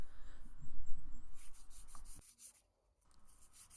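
A boat hull is hand-sanded with 120 grit sandpaper in short scratchy rubbing strokes that stop partway through, ending in near silence with a few light touches.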